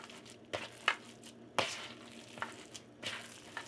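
Hands squish and mix a ground beef mixture for Salisbury steak, giving soft wet squelches and smacks in an irregular rhythm, close and fairly quiet.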